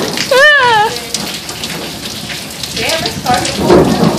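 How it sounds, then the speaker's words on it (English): Heavy desert rain pours steadily onto surfaces with rumbling thunder, a dense close hiss punctuated by louder bursts, while a few brief vocal sounds rise over the downpour. "it's starting to pour down"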